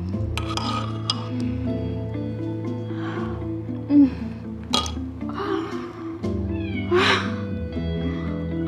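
A house cat meows a few times, with clear cries standing out around midway and near the end over a steady low background hum, with faint indistinct voices nearby.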